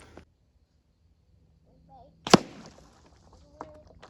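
An arrow shot from a bow strikes a jug of water, one sharp, loud impact in an otherwise quiet outdoor setting, followed by a brief splashing rustle and a small second knock.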